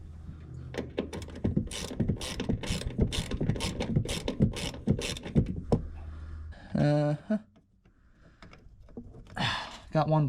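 A ratchet wrench loosens bolts on a 1970s Ford under the hood during heater core replacement, giving rapid repeated clicking bursts in quick rhythm, close and crisp, followed by brief pauses with someone speaking.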